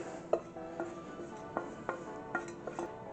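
Onion mixture is tipped into a bowl of soaked bread mush, giving a series of close, light clinks and taps of a spoon against the bowl, spaced irregularly over a quiet background.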